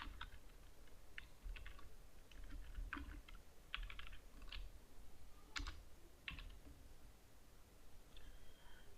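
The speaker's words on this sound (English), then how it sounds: "type your author name, me, and subject, and type here your file keyword." Quiet computer keyboard typing, irregular clusters of clicking keystrokes close up over a low background hum, while entering metadata in Adobe Acrobat Pro DC.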